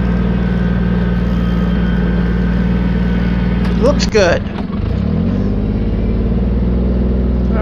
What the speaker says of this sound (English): Pull the tractor right down into the water.